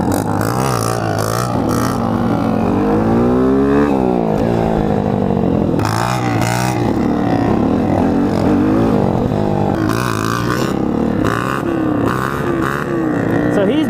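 An Apollo RFZ Chinese dirt bike engine revs hard and loud nearby, rising and falling in pitch as the clutch is dumped in first gear, with voices faintly underneath.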